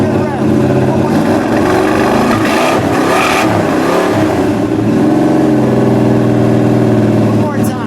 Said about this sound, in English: Fire it up one more time unless we're out of gas. Yeah, give it one good rev.